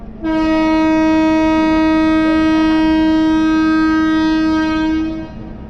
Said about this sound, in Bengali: এক নম্বর প্ল্যাটফর্মে এসে ঢুকছে ট্রেনটা